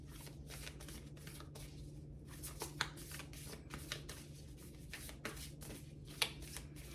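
A deck of cards is shuffled close up and quietly, a rapid series of crisp riffling flicks and soft taps repeating in bursts over several seconds against a low steady hum.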